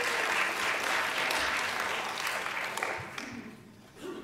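A family audience claps at a church music night, a continuous close burst of applause that holds steady, then thins and fades toward the end.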